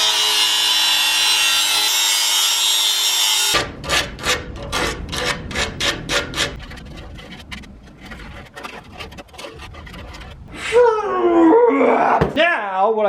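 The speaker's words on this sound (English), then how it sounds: "I have to get in there with a grinder." Grinder whining loudly in an LS-swapped Blazer's cramped engine bay near the alternator bracket, a steady harsh drone that cuts off and gives way to rough rasping and scraping strokes, with a voice near the end.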